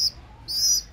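A baby pigeon chirps just after being hand-fed: a short high-pitched call, then a longer, louder chirp about half a second later, close by, with no voices.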